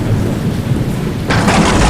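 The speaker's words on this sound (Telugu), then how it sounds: "సుమారు రెండు రోజులుగా ఉరుము మెరుపులతో భారీ వర్షం కురిసింది" A deep rumble of thunder, then heavy rain surging in loudly and steadily.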